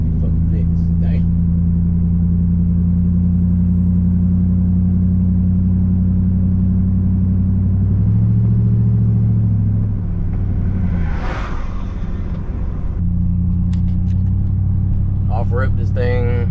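A lowered 1999-06 Chevy Silverado with a 5/7 drop rolls over a rough road, its engine and road noise a loud, constant low rumble that swells briefly midway. People talk inside the cab over the drone.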